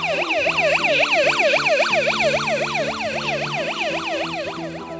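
A police siren built as a school STEAM class project wails in a fast repeating up-and-down yelp, loud and close, with a steady electronic hum beneath it.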